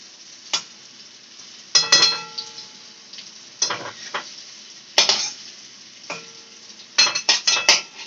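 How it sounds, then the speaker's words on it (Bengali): Homemade dhoka lentil cakes fry in a pan over a faint background sizzle, broken by sharp spatula scrapes and clanks in bursts as the cakes are flipped. "এক পিঠ ভাজা হয়ে গেছে আর এক পিঠ উল্টে দিচ্ছে"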